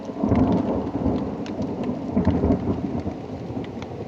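A thunderstorm rolls on with heavy steady rain and low rumbling thunder, a loud continuous wash of rainfall under deep swelling booms.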